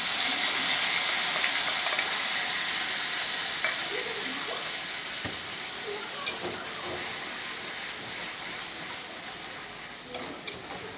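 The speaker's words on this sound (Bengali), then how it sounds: "মশলাটা ভালো করে কষিয়ে নেবো যতক্ষণ না তেল ছাড়ে" Spice paste with a bay leaf frying in oil in a pan, a steady soft hiss and sizzle that runs throughout, with a few faint taps from stirring.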